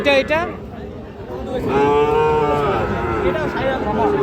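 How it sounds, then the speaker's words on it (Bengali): A Sahiwal bull calf, about four to five months old, gives a short moo, then a long, loud, drawn-out moo that lasts to the end. It is heard close by at a livestock market. "একটা শাহিওয়াল জাতের ষাঁড় বাছুর"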